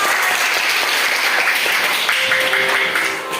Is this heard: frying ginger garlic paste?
no